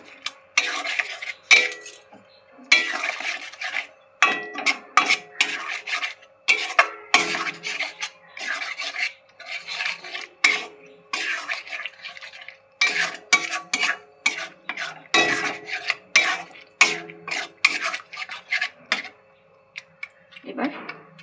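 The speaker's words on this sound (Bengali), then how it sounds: "এবার মশলাটা এইভাবে কষিয়ে নেব।" Chicken masala spices are stirred and sautéed in a pan, with irregular scraping and clinking strokes of a spoon against metal repeating up close, mixed with faint sizzling and occasional talk.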